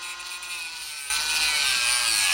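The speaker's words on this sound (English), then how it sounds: "it is not a difficult task with a grinding disc and a rotor tool" A rotary tool fitted with a grinding disc thins a plastic model kit part for a MiG-3, giving a steady high-pitched whine that jumps louder and harsher midway, close up with no talking.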